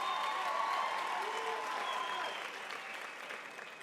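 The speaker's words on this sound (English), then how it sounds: "So can we give it a big round of applause," A graduation ceremony audience at the University of Limpopo claps together in a sustained round of applause. The applause is moderately distant and even, and fades slightly toward the end.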